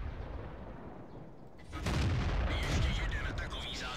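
A loud SU-85 tank destroyer's main gun fires in a World of Tanks-style game, a sudden heavy boom at about the two-second mark with a rumbling roll afterward.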